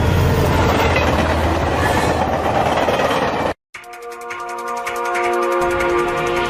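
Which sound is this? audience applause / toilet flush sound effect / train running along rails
train running along rails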